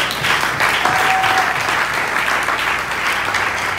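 Congregation at a French-speaking church conference applauding and cheering, a dense, steady wash of clapping from a large crowd filling the room for several seconds, with no speech over it.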